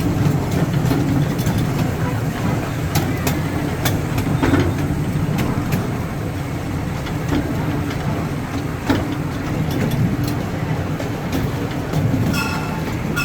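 Small Iron Horse amusement park train at Niagara Amusement Park rolling along its rails, a steady rumble with repeated clacks and squeaks over the track joints and faint voices in the background.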